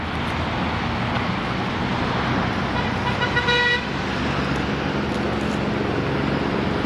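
Automated vehicles with roadside communication approaching an intersection during a test: steady, fairly loud road and engine noise throughout, with a brief tonal horn-like toot midway.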